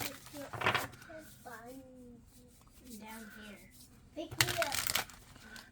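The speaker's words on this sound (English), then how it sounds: "You might hear my kids playing in the background." Kids play and chatter in the background of a room while someone handles and shuffles oracle cards, with crinkling and rubbing bursts among the soft voices.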